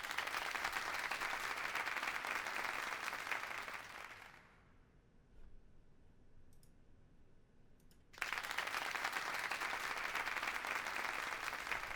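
A livestream donation alert plays recorded applause: dense clapping for about four seconds, a quiet gap with faint clicks, then the applause resumes just as loud and steady.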